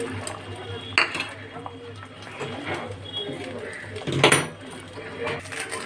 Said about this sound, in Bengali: প্রথমে আমি ডিমটাকে ঝুড়ো করে নেব ছোট ছোট করে